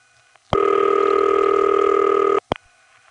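Ringing tone on a call through a crossbar telephone exchange: a steady two-tone ring lasting about two seconds, with a high tone sounding faintly in the background, followed by a short click.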